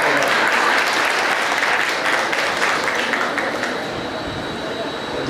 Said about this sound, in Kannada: ನೀವೆಲ್ಲರೂ ನಕ್ಕೋತ ಚಪ್ಪಾಳೆ ತಟ್ಟಿದ್ರೆ ಭಾಳ ಸಂತೋಷ ಆಯ್ತು ನನಗೆ.